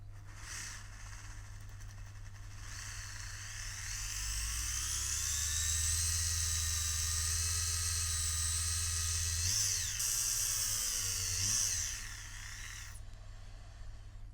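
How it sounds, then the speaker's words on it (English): A small drill bores out a Trumpeter 1/200 HMS Hood plastic model part, a steady high whine that swells, holds loud for several seconds, then tapers off, with no talking. "I'm going to have to drill out the Trumpeter plastic part"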